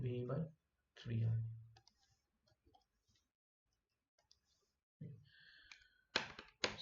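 Computer mouse clicking on an answer option, sharp clicks near the end following spoken words, close and fairly quiet.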